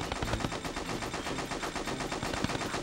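Cannon fire in the video game Jak 2, a steady rapid series of sharp booming shots repeating at an even rhythm, fairly faint and continuous under game sound.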